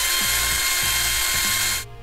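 Drill with a 3/16 bit working stiffly through a hex wheel hub of a Traxxas Nitro Sport RC car: a steady, loud, close high-pitched whir with a rhythmic labouring pulse, cutting off at the end.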